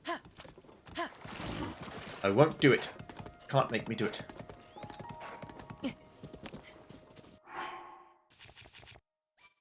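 Horse hooves clip-clopping in the video game Tears of the Kingdom, irregular steps heard under someone talking, trailing off into quiet near the end.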